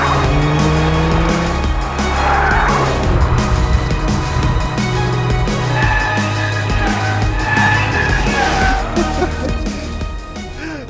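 Toyota GR Corolla driven hard, its engine loud and continuous with tires squealing and skidding throughout, close and steady over the whole stretch.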